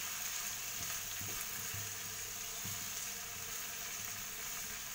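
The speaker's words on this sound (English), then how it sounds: "Fry it for 5 minutes." Egg bhujia mixture sizzles in a pan over a slow-to-medium flame, a steady, faint fry with occasional soft stirring knocks and no talk.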